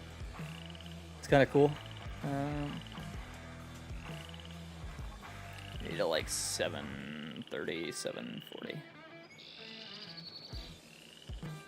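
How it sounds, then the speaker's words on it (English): Frogs croaking at night by a pond near a house in Farming Simulator 22, faint chirping calls and croaks in the background while someone talks over them at length. "Hear the frogs croaking here at night"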